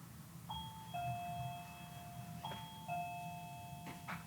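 A Reolink video doorbell rings twice with a clear two-tone ding-dong chime, each tone lingering and ringing out over quiet room noise.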